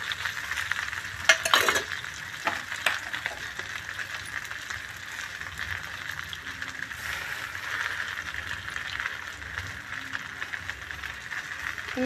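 Washed gongura leaves frying in oil as they are stirred: a steady close sizzle with scraping and a couple of sharp utensil knocks near the start, continuing evenly with no speech.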